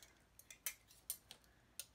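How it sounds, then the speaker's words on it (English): Metal fork, spoon and knife handled together, giving a handful of sharp, bright clinks and taps at irregular intervals, close and fairly quiet with no talking. "a fork, a spoon, and a knife"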